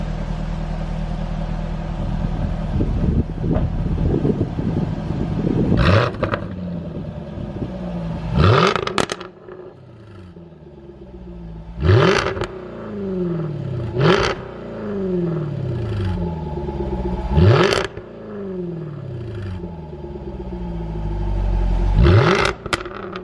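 A Jaguar F-Type R exhaust revved repeatedly while stationary, loud sharp blips climbing in pitch and then falling back to a rumbling idle, about six rev bursts spread evenly with no talking.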